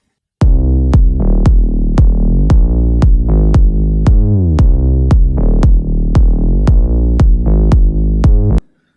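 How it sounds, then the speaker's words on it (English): A chill house synth bass plays a steady run of short, punchy notes, one roughly every half second, loud and alone with no other instruments. "The bass line sounds like this."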